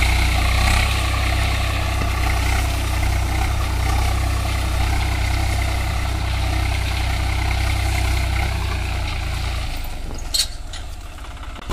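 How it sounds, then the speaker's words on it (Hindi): A tractor engine runs hard in a sugarcane field, a steady loud low drone holding throughout with a brief rattle near the end and no talking. "ट्रैक्टर इतनी तेज चला रहे हैं"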